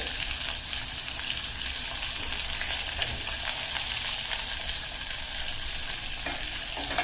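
Green mango cooks in a pan with salt, turmeric and chili powder, sizzling and frying steadily while a spoon stirs and scrapes through it. The sound is close, with no voices.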